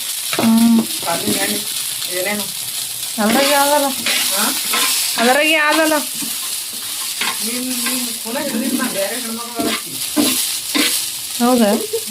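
Food frying in hot oil in a farm household kitchen while someone stirs it, making a steady sizzle and occasional scraping under near-continuous talk.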